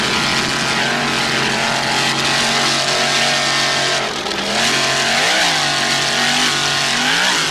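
A racing powerboat's 640-horsepower Mercury outboard screams continuously at full throttle during a 1994 Key West World Championships race, its pitch dipping and rising as it swings through a turn.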